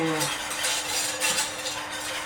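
Milk and sugar being stirred in a pan on heat, giving a dense, close wash of scraping and swishing with faint utensil clinks, continuous through the short moment.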